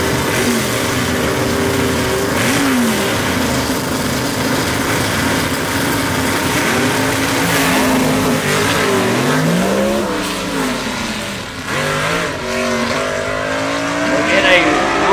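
Gasser drag racing cars run down the strip at London Dragway, loud engines roaring and revving continuously with rising and falling pitch, close and sustained for the whole stretch, with some voice mixed in.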